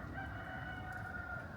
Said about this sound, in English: the chickens from behind, they seem to talk to each other now